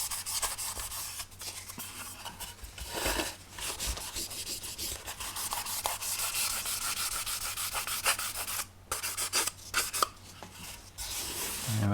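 2500-grit sandpaper rubbing back and forth on a plastic scale model of an Eagle 1 spacecraft, a continuous close scratchy rasp with a few brief pauses.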